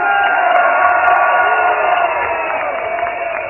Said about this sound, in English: I'm not going to get to say anything after this crowd erupts